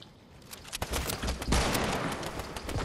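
Gunfire in the Fortnite battle royale game: a close, loud stream of rapid shots and bursts that builds in the second half and continues steadily to the end, with no talking.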